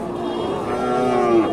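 A bony cow at the Hashokhali cattle market in Bogura gives one close, drawn-out moo that lasts the whole moment, with faint market background behind it.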